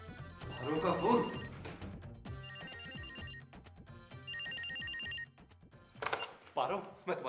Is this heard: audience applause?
no